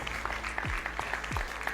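Applause from an audience for the winner of a cooking contest, a steady wash of clapping running the whole stretch, with sliding low tones and other background noise under it.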